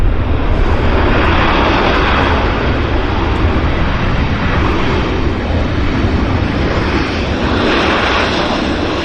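A United airliner at Vancouver Airport thunders past, a loud, continuous broadband jet roar that stays close and steady with no voices over it.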